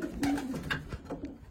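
A guest racing pigeon coos softly in a loft, a few low, rounded calls close by with faint background rustle and no talking.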